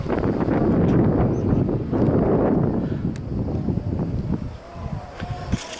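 Strong wind gusts buffet the microphone on a breezy hilltop overlooking vineyards and woodland near Montalcino, loud and roaring at first, then easing slightly toward the end.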